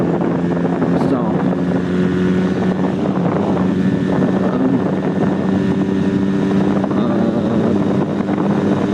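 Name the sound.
Honda Rebel 250 motorcycle riding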